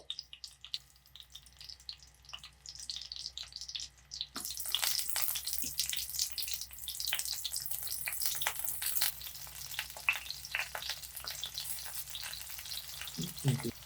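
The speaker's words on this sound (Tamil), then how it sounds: "எண்ணெய் காஞ்சிருச்சு இப்போ தக்காளி அப்படியே வந்து போடுவோம்" Tomatoes dropped into hot oil set off a sudden loud, crackling sizzle partway through, after a quieter stretch. The spitting hiss stays dense and continuous, with occasional pops, close to the pan.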